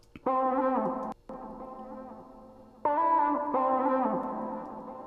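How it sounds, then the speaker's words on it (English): Sustained synth notes drenched in springy spring reverb and echoing delay effects, swelling and trailing off between two held passages. "The spring reverb and the delay just does something amazing to it."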